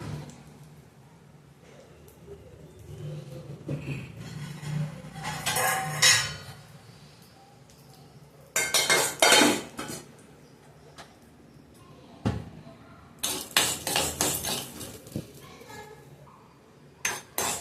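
Chana dal and urad dal roasting in a pan for a ridge gourd chutney, with bursts of rattling, scraping and clinking from stirring, quiet gaps between, and some speech in the background.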